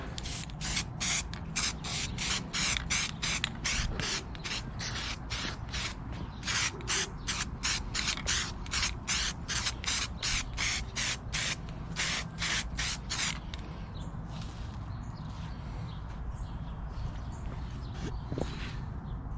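Rapid, evenly spaced hisses from a well-shaken spray can of self-etching primer paint, applied to REO engine parts such as the cylinder head, with a steady mechanical drone beneath, then a quieter stretch of softer spraying at the end.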